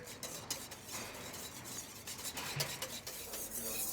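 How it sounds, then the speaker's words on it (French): A whisk stirs hot milk into an Alsatian tart mixture in a bowl, giving a steady, close run of scraping and light metallic clinks with no talk. "Versez progressivement le lait sur la préparation et bien mélanger l'ensemble avec le fouet."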